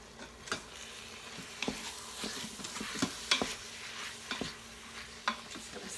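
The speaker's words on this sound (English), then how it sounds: "Stir it around a little bit." Chicken sautés in an Instant Pot with a soft, low sizzle while a utensil stirs and scrapes the pot, producing scattered clicks and taps at irregular intervals, quiet and close.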